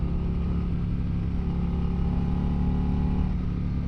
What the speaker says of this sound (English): you can hear how the engine just responds